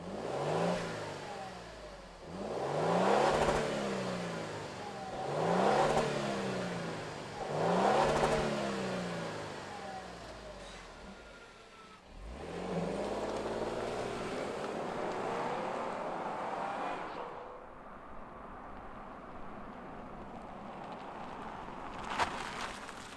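A 2022 Lexus LX 600 Ultra Lux SUV engine starts and runs, giving several rising revs in a row before settling into a steady idle, heard fairly faintly.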